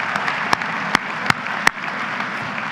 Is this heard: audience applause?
yes